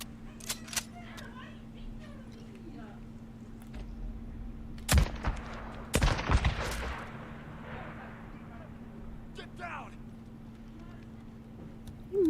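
Gunfire in the video game Days Gone: several loud sharp shots cluster in the middle, with scattered quieter pops before and after, over a steady low hum and some talk.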